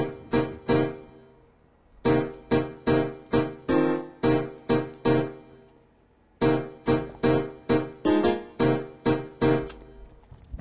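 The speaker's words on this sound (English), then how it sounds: "So this particular chord loop now sounds like this." Funky slap bass chords from an E-MU Proteus VX sampler in Ableton play as a loop of short, punchy stabs. They fall in tight rhythmic bursts with brief gaps between the phrases, clean and loud with no voices.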